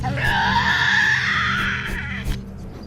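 A Tasmanian devil screams in a wild forest on the island, a loud, sustained harsh screech with rasping harmonics lasting about two seconds, then a shorter cry and fading rustle.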